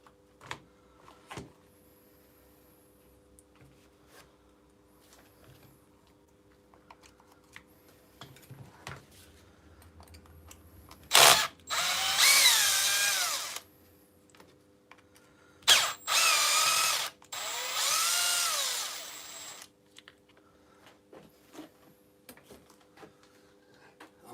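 A power drill backs screws out of a scooter's body panels in several separate bursts, each a loud whirring run of a second or two, separated by quiet pauses with small clicks and handling noises.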